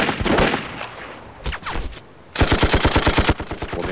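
Gunfire in a kung fu war film: a few scattered shots and impacts come first, then a sharp, close burst of rapid automatic fire follows a short pause.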